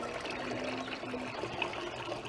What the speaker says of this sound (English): we have our water fountain that's making a really good sound